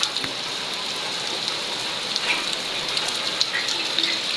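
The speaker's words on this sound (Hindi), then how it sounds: "ये देखिए बारिश तेज़ हो गई है" Heavy rain pours steadily on a village house, a dense, even hiss with scattered drip and splash accents close by, no voices.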